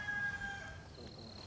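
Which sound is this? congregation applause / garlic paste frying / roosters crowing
roosters crowing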